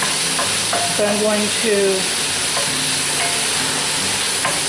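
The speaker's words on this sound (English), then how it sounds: "saute this up till all the pink is gone" Venison burger sizzles and fries steadily in a cast iron skillet, a constant loud crackle with occasional stirring scrapes, while someone speaks briefly over it.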